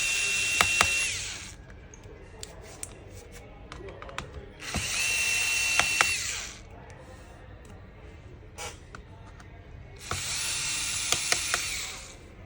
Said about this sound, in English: Make sure you remove all the screws on the battery.